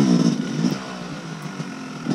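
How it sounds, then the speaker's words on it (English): Enduro dirt bike engine labouring up a tough climb on a fall trail ride in Marquette, Michigan, a mid-pitched motorcycle drone that revs then eases and falters, heard alone without talking. "Here's Max on a tough climb here, struggled a little bit"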